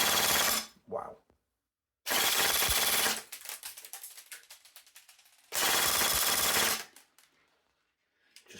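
A Specna Arms SA-J71 Core AK-74M nylon-body airsoft gun fires two loud full-auto bursts of about a second each, with clicks, rattles and handling noise between them.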